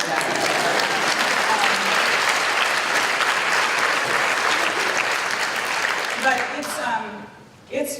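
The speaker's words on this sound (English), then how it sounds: "You can clap for that." Enthusiastic crowd applause during a speech on reproductive rights, sustained and full for several seconds before fading out, with a brief burst at the close.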